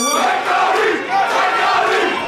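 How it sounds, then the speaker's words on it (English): Supporters gathered outside a fighter's event shout and cheer together in a loud, sustained group roar, rising and falling in waves close by. "You got a bit of a crowd out there?"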